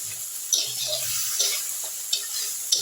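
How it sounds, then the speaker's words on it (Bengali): Spiced yogurt masala with chilli, salt, turmeric and cumin is stirred in a hot pan, giving a steady soft sizzle with periodic sharp scrapes and taps of the spoon against the pan. "দিয়ে আমি খুব ভালো করে এটাকে নেড়ে নিচ্ছি।"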